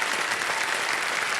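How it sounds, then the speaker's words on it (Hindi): Studio audience applause on the KBC Hindi TV quiz show, a dense, loud, even wash of clapping heard alone and continuing steadily through the brief moment. "तालियां बज जाए इनके लिए"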